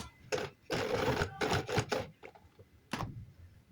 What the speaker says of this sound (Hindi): अभी हम इसको यहाँ पर स्टिच लगाकर इसे कवर करेंगे